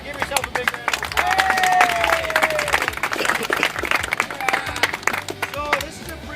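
Crowd applause at a Special Olympics torch run event, a sustained burst of clapping from a gathered group with voices mixed in throughout.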